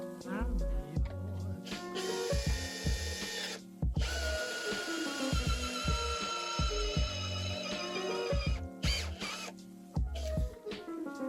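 Power drill boring through to run a cable, heard as repeated loud whirring bursts with short pauses between them, close by.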